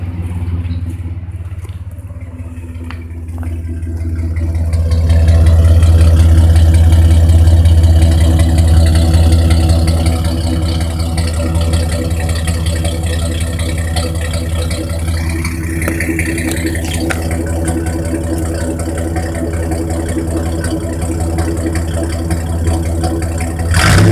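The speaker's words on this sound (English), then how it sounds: "And that's what my Blazer sounds like with no muffler." Engine of a 1997 Blazer running with a straight pipe and no muffler, starting up into a loud, deep, rumbling idle that holds steady close by for a long stretch.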